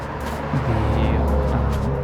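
A car drives past close by outdoors, a broad rising-and-falling engine and tyre rumble that swells midway and holds steady, with no other sounds on top.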